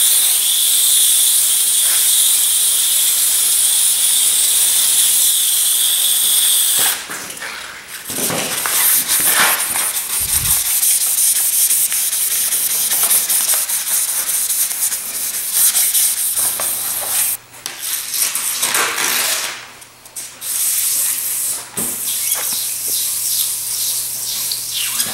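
A glass fiber reinforced concrete table sanded to 600 grit, a continuous hissing rasp of the sander across the surface, loud and close, broken by short pauses and changes in pressure.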